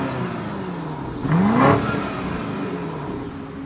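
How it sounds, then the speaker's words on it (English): A 2024 BMW X6 M60i with a 523 hp turbo V8 and quad exhaust outlets revs once, its note rising sharply to a brief peak and falling back to a steady idle, heard close and alone. "we actually have quad exhaust outlets, and it sounds phenomenal, so we'll go ahead and insert a clip in"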